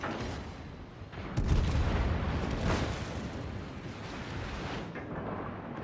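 Secondary guns of the Des Moines cruiser firing in World of Warships, a heavy booming burst followed by rolling, rumbling gunfire and blasts that stay loud and dense throughout, without talk.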